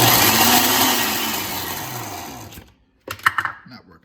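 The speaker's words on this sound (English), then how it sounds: "So y'all may or may not be able to see it blend." A blender whirs loudly through chocolate nice cream, its motor pitch slowly sinking as it strains and then stopping, followed by a few brief clatters.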